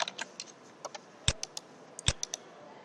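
Light, irregular keystrokes on a computer keyboard as a folder name is typed, a dozen or so quiet clicks in short bursts with a couple of sharper, louder key presses, close and alone.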